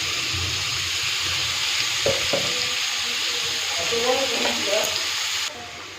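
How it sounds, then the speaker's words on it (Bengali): Potatoes frying in oil for a vegetarian banana-flower curry with chickpeas and coconut, a loud, continuous sizzle with a few faint utensil knocks, close by and alone until it drops slightly near the end. "আলুগুলো খুব ভালো মতো করে ভাজা করে নেবে"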